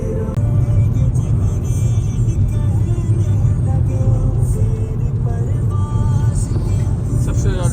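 A car engine rumbles and whirs close by as the vehicle pulls away, a steady, loud drive sound without a clear rev peak.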